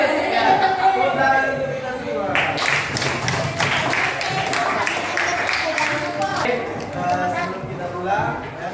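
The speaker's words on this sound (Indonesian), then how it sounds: "Tepuk tangan untuk kita semua." A classroom of students applauds in a burst of dense, lively clapping lasting several seconds, with a teacher's voice heard before and after.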